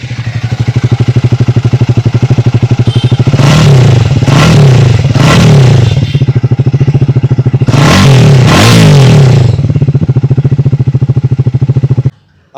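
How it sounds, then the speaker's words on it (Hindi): Triumph Speed 400 motorcycle exhaust idles with a loud, steady low thrum, broken by five sharp throttle blips in two groups before the engine cuts off at the end. "इन दोनों का एग्जॉस्ट।"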